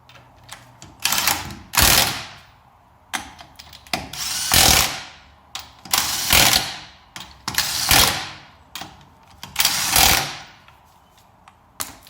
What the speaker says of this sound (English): if you're using an impact to tighten it, just don't crank down on it